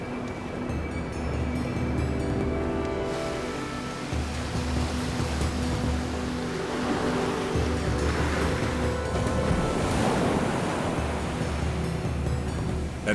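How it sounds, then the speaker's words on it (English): Winter high winds and heavy surf pound the Hawaiian coast, a continuous loud roar of crashing waves and gusting wind with no voices, swelling stronger midway through. "Now winter has arrived in the islands, bringing with it high winds and high seas."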